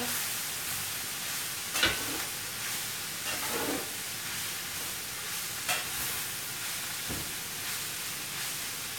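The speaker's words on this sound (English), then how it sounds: "I'm going to stir around this pan. We've got the squash in here." Squash cooking in a skillet for a beef and vegetable dinner, giving a soft continuous sizzle and hiss with a few scraping stirs of the pan, close and moderately quiet, no talk.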